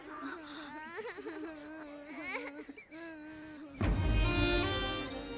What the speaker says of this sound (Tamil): சின்ன பசங்க ஏன் இப்படி அழுகுது